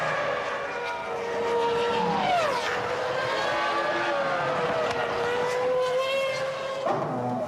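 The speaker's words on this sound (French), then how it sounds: "Hetfeld et Button donnent le signal du 2e ravitaillement et reprennent la course directement dans la voie des stands" Formula 1 cars pulling away down the pit lane after a refuelling stop in the 2002 season, engines whining and sweeping in pitch as they pass close by, a continuous loud high-revving blend with overlapping cars.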